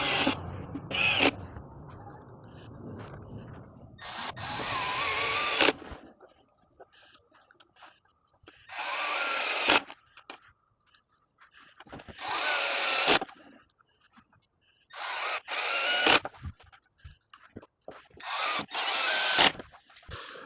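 A power drill drives 2.5 inch screws into wooden boards clamped on a Worx Pegasus work table, in several loud bursts of a few seconds each, separated by quieter handling and rubbing sounds.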